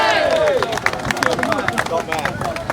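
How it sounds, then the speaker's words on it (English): A rally crowd cheers and claps for a speaker addressing them about migrant hotels, with dense applause and shouts sustained throughout, mixed with overlapping voices and babble. "Everyone give him a cheer."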